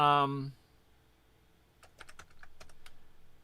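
Close computer keyboard typing during a Virtual DJ software demonstration, a short burst of quick, light key clicks in an irregular rhythm following a brief spoken phrase.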